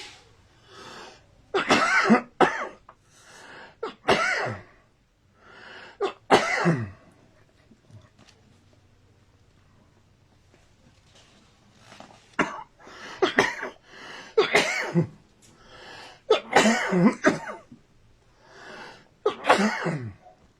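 Harsh, close coughing fits come in clusters of sharp bursts, with a quiet pause partway through before a longer run of repeated coughs.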